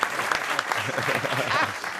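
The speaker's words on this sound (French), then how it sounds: "Applaudis." A television studio audience claps steadily and fairly loudly for a couple of seconds, a dense patter of many hands.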